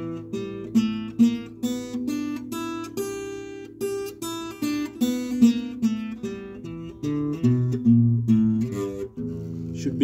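A guitar plays a pentatonic scale pattern in a blues-style lesson, picking a steady run of single notes with open strings ringing, close and clear, with no talk.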